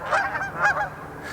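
Two or three nasal goose honks in quick succession, fairly close and clear against a quiet background.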